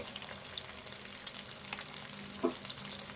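Green chillies and sliced onion fry steadily in a pan, a continuous bright sizzle throughout with a short stirring scrape near the end, no talking.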